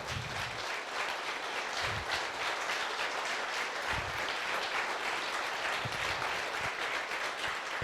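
Audience applause at a therapeutic cannabis gathering in El Hoyo, honouring the cultivators: steady, dense clapping from a sizable crowd, sustained at an even level throughout without a break.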